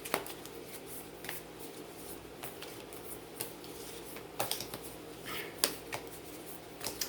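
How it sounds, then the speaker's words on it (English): Soft crisp riffling of tarot cards being shuffled, a run of quick flutters and taps close by, fairly quiet with no talking. "it's interesting how I'm gonna start shuffling them"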